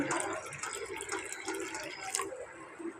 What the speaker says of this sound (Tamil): நம்ம இந்த கப்பில் ஒன்று ஊற்றிக்கலாம்